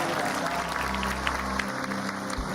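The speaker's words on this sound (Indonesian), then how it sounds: "Tepuk tangan buat Pak." An audience claps in steady, dense applause for a guest arriving at a home, close and continuous, with a low hum and faint voices underneath.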